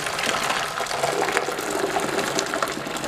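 Almost boiling water pouring steadily into a container of homemade yogurt, a continuous close gushing sound with no voices.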